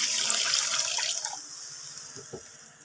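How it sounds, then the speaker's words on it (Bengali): Broth poured into a pot of small puti fish, a steady splashing pour that gradually eases off, close by with a faint clunk near the end. "বন্ধুরা, এবার আমি ঝোল দিয়ে দিচ্ছি।"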